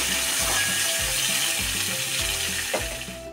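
Vegetables and green chillies sizzle steadily in hot oil up close, with a few low knocks and scrapes of stirring in a loose rhythm.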